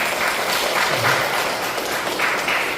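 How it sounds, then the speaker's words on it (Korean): A church congregation applauds together during a Korean Sunday worship service, a steady, dense wash of clapping that holds at an even level throughout with no voices over it. "박수 한번 쳐주세요."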